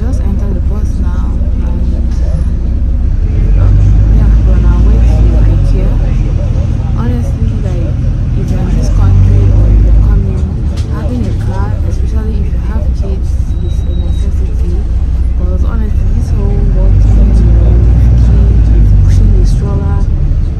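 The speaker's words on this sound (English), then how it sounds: "so we just entered the bus now" Interior of a moving city bus in Manchester, a loud steady low engine rumble with rising and falling drone and rattles, and background chatter from passengers under the noise.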